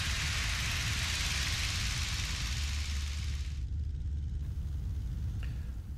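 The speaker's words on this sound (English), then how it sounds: "the intercom on the Luscombe's still a little bit too noisy and only has audio on one channel" A noisy intercom in a Luscombe light airplane during takeoff carries a loud, dense hiss over a deep engine rumble. The hiss cuts back sharply partway through, leaving the steady drone.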